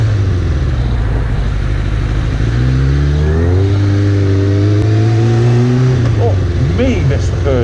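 A KTM Duke motorcycle on a UK road accelerates past, its engine note climbing through rising gear pulls and shifting pitch, loud and close, while a rider talks over the engine and wind roar.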